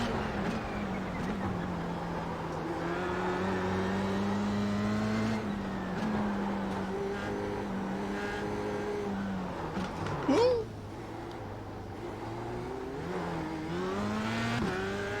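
A Formula 3 race car engine in a sim racing game drones steadily at high revs, its pitch rising and falling through gear changes and throttle lifts, with one brief sharper spike midway; the tone is continuous and mid-level throughout.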